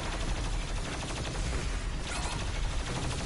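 Doom Eternal gunfire keeps up a relentless rapid stream of shots, thick and steady against a loud wash of combat noise, with no talking.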